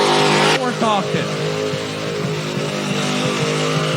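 FROSTY ice cream truck driven by Seth from Wyoming doing a burnout at a skids event, a loud sustained engine roar with tire squeal, a crowd and an announcer's voice talking over it throughout.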